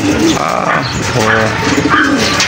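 A breeder pigeon coos, a few soft rolling coos near and fairly loud, repeated in short bursts over a close, busy background.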